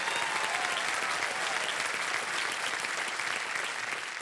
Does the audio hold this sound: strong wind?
no